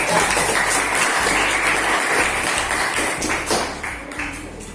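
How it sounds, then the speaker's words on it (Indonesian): Classroom applause from a group of seventh-grade students, a dense run of claps that fills the room steadily and thins slightly toward the end, with no talking over it. "Tepuk tangan buat kita semua."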